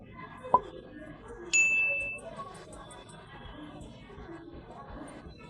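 A notification bell dings: a short clink, then a clear ringing ding that fades over about half a second, under soft background talk.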